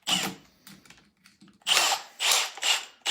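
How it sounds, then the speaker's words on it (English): A power drill bores a 19/64 hole into wooden furniture in several loud bursts of whirring, with quieter handling noises between them, heard close up. "when you start out the drilling, start it out slow so you don't, again, it doesn't chip the wood"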